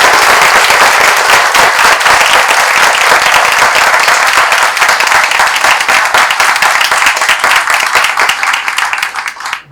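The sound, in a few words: audience applause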